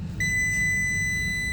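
Electronic beep from a pressure switch being tested on a CO2 refrigeration rack: one sustained high tone starts sharply and holds steady, alone over a low background hum.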